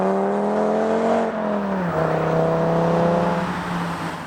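A 2012 Audi TT RS with a 6-speed manual, 360 horsepower and KW coilovers, drives with its engine droning steadily, pitch climbing, dipping at a gear change, then holding and easing off.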